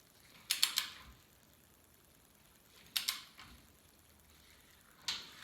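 Ratchet wrench torquing down rear end bolts on a Bronco in a shop, three short bursts of quick clicking spaced a couple of seconds apart, fairly quiet with no talking.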